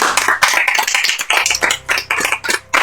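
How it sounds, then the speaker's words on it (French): A small group claps for the podcast's champion: a few hands beating in quick, uneven bursts, close and fairly loud, with short gaps between flurries and no talk. "On peut l'applaudir."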